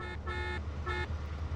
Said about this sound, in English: Why are these people honking?